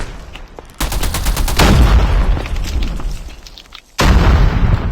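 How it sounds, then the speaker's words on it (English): Grenade blasts in the mobile shooter game Call of Duty Mobile, with loud booming bursts and crackling gunfire rolling on, then a sharp fresh explosion near the end, no talking. "there is a squad on the top of the hills throwing grenades at me"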